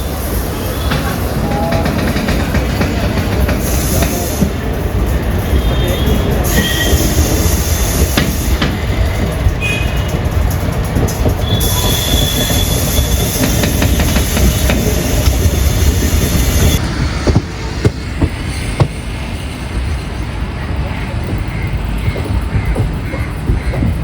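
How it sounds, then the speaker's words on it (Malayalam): A passenger train pulling out of Kozhikode railway station, a steady loud rumble of wheels and carriages with clanking rail noise throughout, growing rougher toward the end, with voices faintly mixed in. "2 മണി കഴിഞ്ഞപ്പോൾ കോഴിക്കോട് റെയിൽവേ സ്റ്റേഷനിൽ നമ്മുടെ വണ്ടി ഡിപ്പോർട്ടായി."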